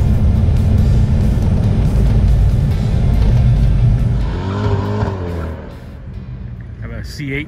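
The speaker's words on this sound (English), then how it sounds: "Have a C8 Corvette going up." A C8 Corvette runs an autocross course, its engine roaring loud and close. The roar fades as the car pulls away, with tires squealing and voices talking over it.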